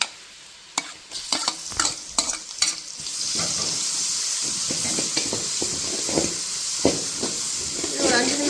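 Ginger and garlic sauté with onions in a hot pan for country chicken curry, with a few clattering stirs at first, then a steady loud sizzle and hiss close by.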